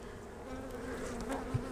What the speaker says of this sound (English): So the bees are hanging out up here protecting this comb, which is a good thing.